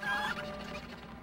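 A chicken clucks in the Ed, Edd n Eddy video game, a short, fairly faint cackle over a low steady game background, with no talk.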